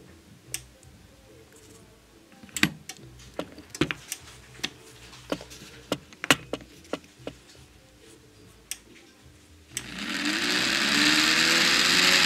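A plug-in power tool converted to run on two car batteries in series at 24 volts DC: a series of sharp clicks and taps, then the motor starts near the end and runs as a loud, steady, broadband whir.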